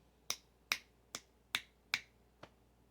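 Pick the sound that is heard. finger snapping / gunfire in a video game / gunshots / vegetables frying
finger snapping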